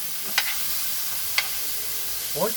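Pork slices sautéing in a hot pan for ginisang upo, a steady close sizzle with a few sharp scraping stir strokes and a brief voice near the end.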